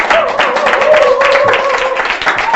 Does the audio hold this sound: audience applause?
yes